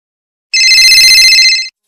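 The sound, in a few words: phone ringing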